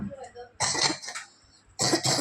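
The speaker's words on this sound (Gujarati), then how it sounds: "આપણને ઉધરસ બહુ થઈ ગઈ છે" Two bursts of harsh coughing, a cluster of coughs then a short pair after a pause, loud and close with faint murmuring beforehand.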